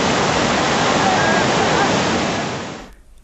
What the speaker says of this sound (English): Now look at the flood on one of those rivers